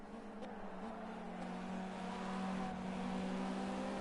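An LMP prototype race car during a one-hour race at Silverstone: a faint, steady engine drone that slowly builds in loudness as the car draws past, with no talk over it.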